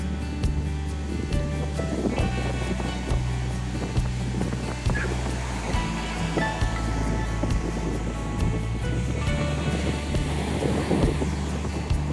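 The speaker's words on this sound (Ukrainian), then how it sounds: "І шум хвиль" Sea waves wash onto a beach by the lit promenade in Odesa, a steady low surf rumble with soft swells, mixed with distant ambient noise and no voices.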